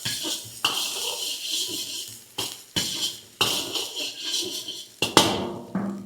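Boiled beans and carrots are tipped into a pan for chicken egg fried rice, with a series of close metallic clanks and scrapes of spoon on pan between brief rushing, sizzly stretches.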